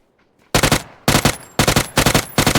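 Loud, rapid bursts of automatic gunfire in PUBG: Battlegrounds break out after a short silence, several sustained volleys in a row.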